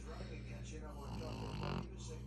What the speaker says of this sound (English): That's the loudest snore for a small, ugly face.